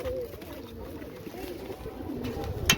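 Pigeons coo softly in low, throaty bursts while being dipped in medicated water, with a steady hiss of background noise and a brief sharp knock near the end.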